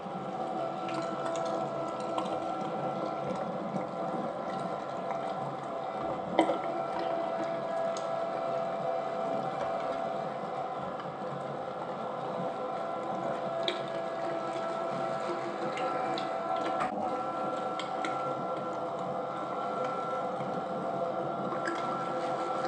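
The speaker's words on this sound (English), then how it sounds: "I will add the meat now and I will grind it through it." Meat grinder with a 4mm blade mincing veal and pork belly for veal sausage, a steady whirring motor drone with faint squishing and ticking, continuous and even throughout with one brief knock.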